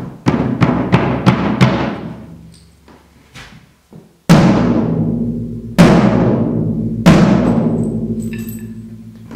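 Tom drum from a drum set struck repeatedly after tuning the head, first several quick close hits, then single loud strikes each ringing out with a long decaying tone.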